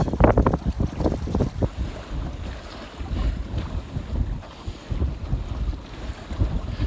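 A sailboat sails on Loch Fyne, strong wind buffeting the microphone with heavy rumbling gusts over the wash of water against the hull, loud and continuous.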